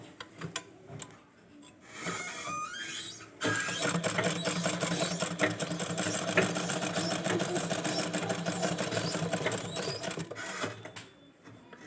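A sewing machine stitches the sleeve of a baby gown, starting with a few short bursts and then settling into a long, continuous rattling run at moderate volume.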